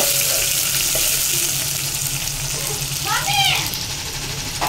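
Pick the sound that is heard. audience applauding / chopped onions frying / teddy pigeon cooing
chopped onions frying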